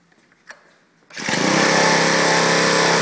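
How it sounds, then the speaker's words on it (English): A hybrid bicycle's small engine catches after a short pause and a faint click, then runs steadily at a loud, high, buzzing idle with no letup to the end. "Now we can start the engine."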